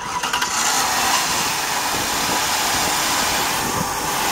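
A car engine, recently prone to misfiring, runs steadily in a parking lot at a junkyard, a smooth continuous hum with a brief rough catch at the start and no voices over it.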